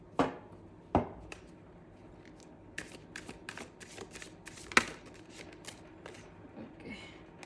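Tarot cards are shuffled close up in a quiet room, with soft riffling and sharp taps of the deck at irregular moments.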